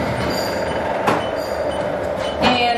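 Gym treadmill running at a steep incline in Rome, giving a steady loud mechanical whir and rumble with a couple of brief sharper knocks, no talking over it.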